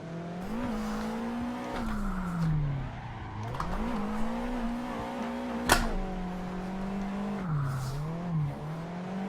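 Car spinning out in the Assetto Corsa racing game, engine tone rising and falling with tire skid noise, a sharp brief crack near the middle, steady and fairly close with no talking.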